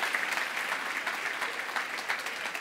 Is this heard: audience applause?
yes